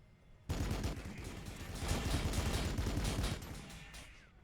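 Rapid gunfire from a Warhammer 40000 Battlesector multiplayer match between Blood Angels and Necrons bursts in suddenly and keeps rattling in dense overlapping volleys for several seconds, with no talk over it.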